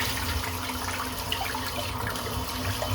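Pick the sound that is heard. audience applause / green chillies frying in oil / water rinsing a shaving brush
water rinsing a shaving brush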